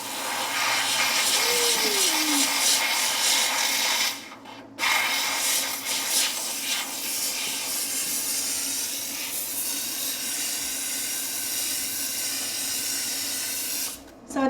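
Bissell Steam Shot steam cleaner blasting steam into a windowsill, a loud continuous hiss that runs steadily with two brief cut-offs, no talking.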